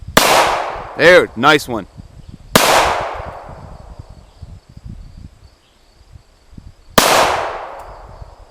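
Two sharp, loud gunshots from an AR-15 rifle or 1911 pistol at a shooting range crack several seconds apart, each with a long decaying echo, while someone speaks briefly in between.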